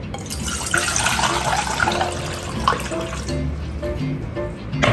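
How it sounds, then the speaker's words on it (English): Four cups of water pour steadily into a pot for udon noodle soup broth, a continuous splashing gush with a brief clink of cookware, close and fairly loud. "For our udon broth, we need 4 cups of water."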